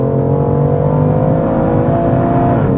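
A BMW M2 CS sports car engine drones loud and close, holding a steady rev with a slight rise in pitch toward the end.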